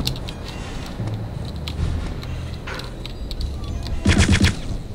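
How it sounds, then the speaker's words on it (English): Weapon fire in Return to Castle Wolfenstein, a near, loud stream of gunfire under steady game noise, ending in a sharp rapid burst. "So you'll need to fire it in short bursts to avoid overheating."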